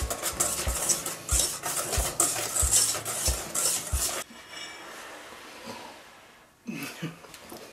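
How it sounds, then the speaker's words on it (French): A utensil stirs dry and liquid baking ingredients, brown sugar among them, together in a bowl, scraping in a quick, steady rhythm for about four seconds before it stops and the room goes quiet. "on a les ingrédients secs et liquides et on va mélanger"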